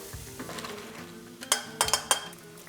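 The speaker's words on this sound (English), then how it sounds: "I'm gonna go ahead and strain this pasta." Cooked pasta is strained in a kitchen, with metal pot and colander clanks and scraping, a soft rushing wash underneath and several sharp clinks toward the end, close and without speech.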